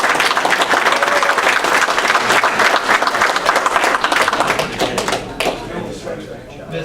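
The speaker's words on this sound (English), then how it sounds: "y'all give my wife a round of applause" An audience at a ceremony bursts into dense, loud applause that fills the space, then thins out and tapers off toward the end.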